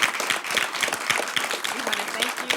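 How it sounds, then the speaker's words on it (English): Applause from a school board meeting audience welcoming a winning football coach, steady dense clapping throughout at moderate loudness with a murmur of crowd underneath. "let's give a warm round of applause"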